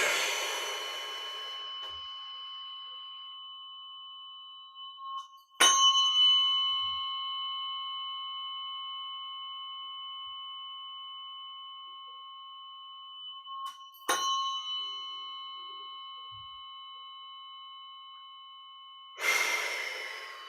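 Tuning forks struck three times during a grounding session, each a sharp tap followed by pure, sustained ringing tones that fade slowly across long quiet gaps, close and clear.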